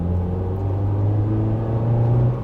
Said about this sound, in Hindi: और तभी जैसे मैं पेडल प्रेस कर रहा हूँ ना, घुटी घुटी सी आवाज आ रही है।